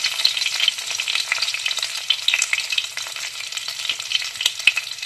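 Chopped garlic and curry leaves sauté in hot oil in a pan, a loud, close crackling sizzle with bursts of stirring throughout.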